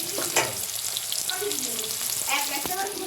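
Chopped garlic, onion, tomato and green chili fry in hot oil in a pan with a dense, continuous sizzle and occasional stirring scrapes, close and loud throughout.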